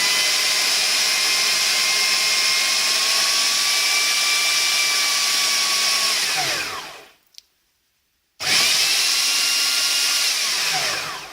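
Kenwood MultiPro FDP613WH food processor running with its whisking attachment, a steady loud motor whine with a high tonal hum that cuts out abruptly into near silence for about a second, then starts again at full strength.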